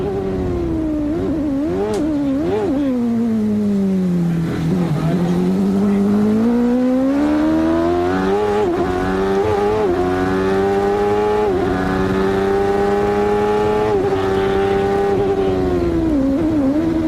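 Scott Goodyear's IndyCar engine at the 1993 Cleveland Grand Prix, an onboard whine rising and falling through gear changes and revs, loud and continuous throughout with no talk.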